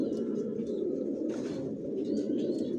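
Racing homing pigeons in a loft give soft, low, continuous cooing with a few faint chirps and a brief rustle of wings, close and gentle.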